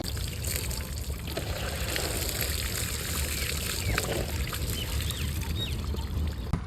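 Water poured from a bucket for washing, a steady continuous splashing and trickling that stays fairly even throughout with no talk.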